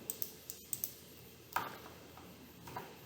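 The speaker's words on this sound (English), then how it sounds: "Oh, let me type that over." Several sparse, light keystrokes on a computer keyboard as an IP address is typed, a few quiet clicks spread across a hushed room with no talking.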